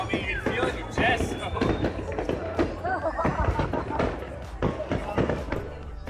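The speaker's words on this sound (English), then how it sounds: "It's not the best vantage point for the fireworks, but it's fine." Canada Day fireworks at a beach burst in a rapid, irregular series of booms and crackles, loud and fairly close, with a crowd and voices talking underneath.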